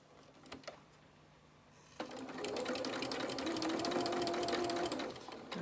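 A sewing machine stitches a seam on dungarees, starting after a quiet pause and then running in a fast, steady mechanical rattle at close range until it stops near the end.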